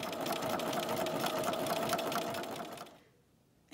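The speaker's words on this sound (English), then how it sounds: "Next step is to mark and sew the buttonholes onto the band." A sewing machine stitches buttonholes onto a costume band, a fast steady mechanical whir with rapid needle clatter close by, running alone for about three seconds before stopping abruptly.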